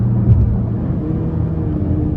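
A 2025 Hyundai Santa Cruz Limited with the 2.5T engine downshifts in sport mode on paddle shifters, a loud, close engine rumble with a brief blip before settling into a steady drone.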